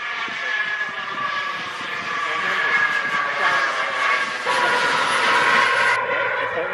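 A yellow radio-controlled F-18 model jet on its maiden flight passes with a loud, steady ducted-fan whine and roar that swells slightly as it nears; faint voices are heard beneath it.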